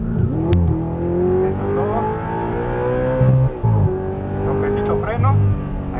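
An Audi R8 engine revs and accelerates loudly, its pitch climbing and shifting with gear changes, while people talk over it.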